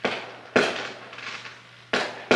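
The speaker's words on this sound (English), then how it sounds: "I was not expecting fireworks, and then just to see them behind me, that was scary." Fireworks going off outside, heard as three sharp bangs spaced irregularly, each followed by a crackling, fading tail, with a steady low hum running underneath.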